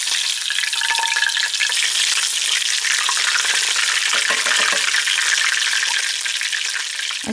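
A thick fish fillet fries steadily in a hot pan, giving a continuous loud sizzle and crackle that holds even from start to finish, with no voices over it.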